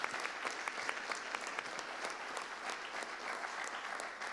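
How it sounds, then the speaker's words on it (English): Steady applause from the audience at a school board meeting honoring fifth grade students, a dense, even wash of clapping heard moderately from a distance. "Let's give all of our fifth grade students a big round of applause."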